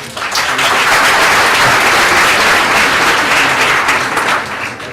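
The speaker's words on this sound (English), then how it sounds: "thank you, that's a belated applause" Loud, dense applause from an audience fills the whole stretch, steady throughout and tapering slightly at the very end, with no voices over it.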